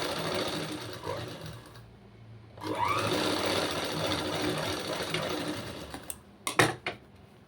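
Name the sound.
sewing machine stitching back and front pieces together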